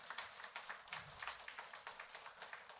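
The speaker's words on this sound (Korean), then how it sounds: "자, 뜨거운 박수 일단" A congregation applauds during a Sunday church service, a moderately distant, steady patter of many hands clapping together with rhythmic peaks and a brief murmur of voices partway through.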